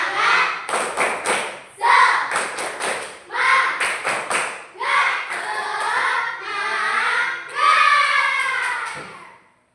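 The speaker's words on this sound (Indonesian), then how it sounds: "Tepuk semangat" A classroom group of students doing a rhythmic spirit clapping chant, bursts of loud synchronized claps in patterned groups alternating with chanted voices, close and energetic.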